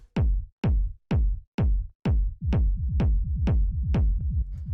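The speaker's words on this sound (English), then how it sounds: "So this is a pretty standard sort of techno kick. Basically what's happening here is I have this dry kick." A dry, punchy techno kick drum thumps alone in a steady four-on-the-floor pulse, each hit deep and short. Partway through, a rolling low rumble fills the gaps between the beats.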